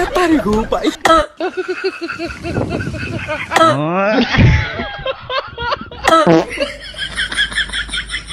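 A couple of sharp coughs break through animated talking and laughter in a lively, close-up exchange.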